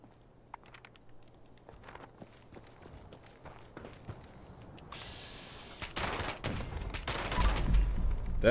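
Rapid automatic gunfire in Fallout 76, a sparse scatter of shots and footsteps that swells into a loud, dense volley near the end.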